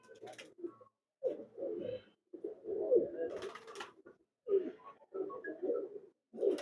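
Champion Teddy-breed pigeons coo in repeated throaty bursts at a Masera City performance, close and clear, with short pauses between the phrases and faint chirps mixed in.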